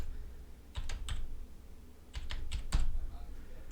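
A handful of quick, light keystrokes on a computer keyboard as a phone number is entered, heard as close, soft clicks in short bursts against a quiet room.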